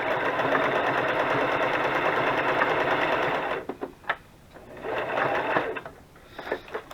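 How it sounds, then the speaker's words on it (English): A sewing machine runs in a steady, fast stitching burst, then stops and restarts in shorter runs with small clicks between. "I feel like I'm sewing backwards."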